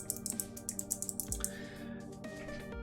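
Rapid typing on a loud, clicky computer keyboard, a quick run of sharp keystrokes that trails off into a faint hum.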